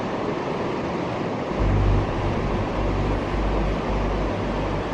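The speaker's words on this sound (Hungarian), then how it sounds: "Alulról egyre hangosabb a dübörgés, míg végre a lábunk előtt hömpölyög a reka." The Reka underground river roars through Kačna cave in a dense, continuous rumble of rushing water, loud and close, with deep low surges throughout and no voices.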